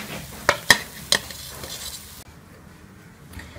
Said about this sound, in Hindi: इसी तरह जो है वो बाकी के भी बड़े जो हैं वो फ्राई कर लेंगे